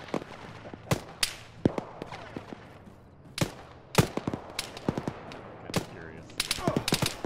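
Gunfire in the Arma military video game with the ShackTac group: sharp single shots and short bursts crack out at irregular intervals, some close and loud, others more distant, with faint voices in the background.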